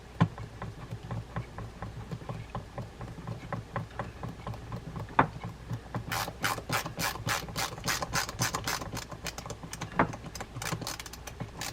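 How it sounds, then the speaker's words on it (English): Snap-on ratcheting palm driver working on a Penn International VISX 12 fishing reel during servicing: rapid close ratchet clicking comes in bursts, steady at first and then as louder, sharper runs of clicks in the second half. "This is a ratcheting palm driver."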